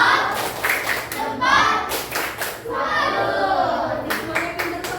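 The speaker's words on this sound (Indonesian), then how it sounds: "Semuanya pintar tepuk tangan dulu." Schoolchildren in a classroom clap a quick rhythmic clap game, bursts of hand claps mixed with children's voices and an adult speaking over them.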